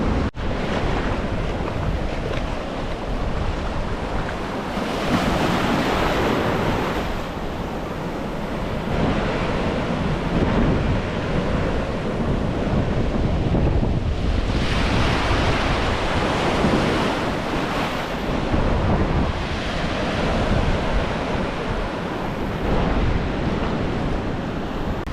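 Strong wind buffeting the microphone on a beach at Albany or Bremer Bay, with surf rolling and crashing continuously underneath, loud and sustained with gusty swells in intensity.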